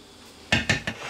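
Spoon or utensil clanking against a pot three times in quick succession while a creamy bacon, mushroom and chicken sauce is stirred, fairly close and loud, with no one talking.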